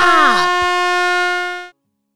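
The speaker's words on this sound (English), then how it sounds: "he squeezed his eyes shut and blasted his air horn." A garbage truck air horn gives one long, loud blast, opening with a brief sliding wobble before holding a steady tone and cutting off abruptly into silence.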